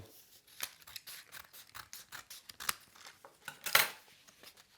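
Scissors trim the edges of a paper jack-in-the-box pop-up card in a quick run of close, crisp snips with rustling paper between cuts, ending on one louder cut, and nobody talks.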